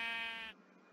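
A single short bleat from a sheep in Minecraft, clear and close, fading out after about half a second.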